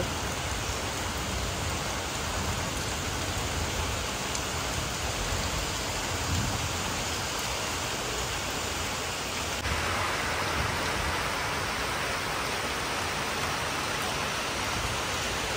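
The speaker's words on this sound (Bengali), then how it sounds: "বৃষ্টি নেমেছে দেখো" A rain shower falls steadily outside as a dense, even hiss of drops that stays constant and fairly loud throughout, with no voices.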